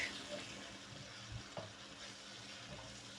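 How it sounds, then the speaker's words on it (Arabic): Garlic stirred and sautéed in a pan for a shrimp pasta dish gives a faint, soft, continuous sizzle with a few light scraping clicks of the utensil. "ابتدي اقلب التوم"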